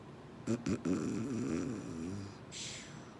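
A voice imitates snoring, a few short snorts followed by a longer rumbling, wavering snore, close to the mic.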